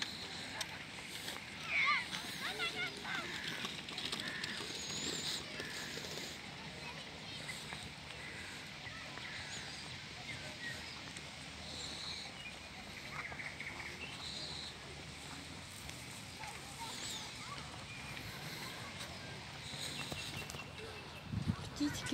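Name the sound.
birds singing in a park grove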